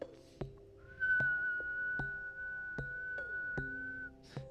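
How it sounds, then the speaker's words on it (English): A person whistles one steady, sustained note for about three seconds, close and clear, while sharp clicks and taps punctuate the quiet around it. "If I can whistle."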